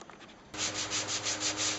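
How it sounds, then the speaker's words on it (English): An orbital sander starts up on cherry wood for a Chinese-style stool and runs as a steady, close, raspy whir that swells and eases in a regular rhythm as it moves across the surface. "that part there is going to get sanded over with the orbital sander"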